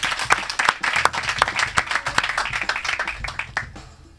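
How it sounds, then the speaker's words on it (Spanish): A live audience at a comedy show claps loudly and close by in a brief, busy burst of applause that cuts off abruptly. "Un aplauso."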